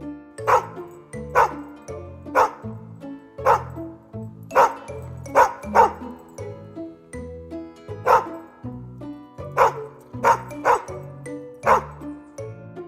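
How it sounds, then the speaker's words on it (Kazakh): A dog barks repeatedly in short bursts, often doubled, at a steady pace over about thirteen seconds, fairly close with no talking. "Бұл ит. Ит. Оф-оф-оф. Оф-оф-оф. дейді."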